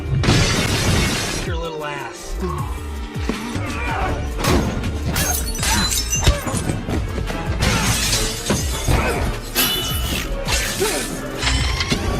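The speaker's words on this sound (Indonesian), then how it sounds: "menjatuhkan Harry di sebuah rak kaca" A glass rack shatters loudly amid crashing and mechanical clatter, followed by a dense, continuous mix of noise and voices.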